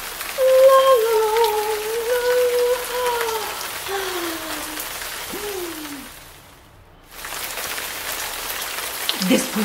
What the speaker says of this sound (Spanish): La lluvia suave y fresca era deliciosa.